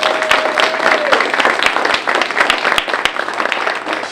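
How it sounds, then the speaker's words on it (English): At a university Veterans Day celebration, an audience gives a loud round of applause for a freshly retired service member in uniform, dense sustained clapping with crisp individual claps standing out and a faint voice underneath. "you give her a round of applause"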